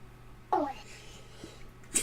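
A single sharp, close sneeze bursts out in a quiet room during a tabletop role-playing game session, followed by a brief breathy sound.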